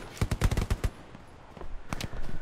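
Machine gun fire in the World War II shooter Hell Let Loose at Utah Beach, with a possible MG 34, comes as rapid bursts of loud, punchy shots, first a tight burst, then a pause, then another volley, with no talking.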